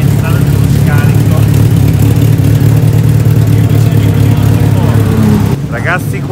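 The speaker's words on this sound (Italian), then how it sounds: "Il rumore del motore Honda." Honda engine of a Formula Predator race car warming up at the Varano circuit, a steady loud drone that rises and falls slightly, with people talking over it and a brief drop toward the end.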